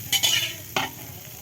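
A spoon stirs raisins into basanti polao in a hot pan, giving three quick scraping strokes over a soft sizzle, close and brief.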